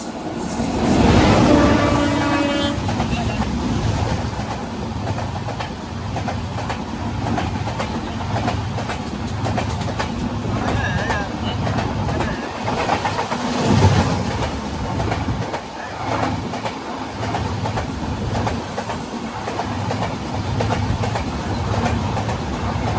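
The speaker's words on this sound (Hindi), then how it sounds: "तो आगे से आ रही है Ernakulam Okha express powered by web 7" The Ernakulam Okha Express, hauled by a WAP-7 electric locomotive, rumbles past with continuous wheel noise and rhythmic rail clatter that stays loud and even throughout.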